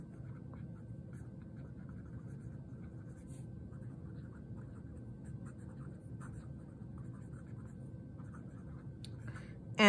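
A Pelikan M205 Duo highlighter fountain pen writing on cheap copy paper, faint close scratchy nib strokes in an irregular rhythm of short scrapes and pauses over a quiet room, ending with a brief louder bump.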